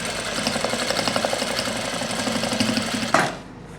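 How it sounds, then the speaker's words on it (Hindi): Sewing machine stitching a zipper onto pants, a loud close rapid mechanical rattle running steadily for about three seconds before stopping abruptly with a clunk. "ये देखो मैंने उसको दूसरी तरफ किया है और मैं अब सिलाई लगा रहा हूँ।"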